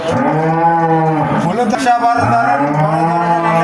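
A cow moos twice at a cattle farm keeping sacrificial Qurbani cattle, each call a long, loud, close bellow with a short break between them.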